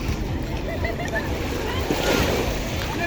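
Ocean surf washing ashore at a Tenerife beach, a steady loud roar of breaking waves mixed with wind buffeting the microphone, continuous and close throughout.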